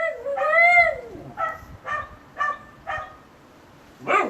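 A dog barks repeatedly during a Portuguese-language sermon, starting with a long rising whine-like yelp followed by five sharp, evenly spaced barks, loud and near, with no speech over it.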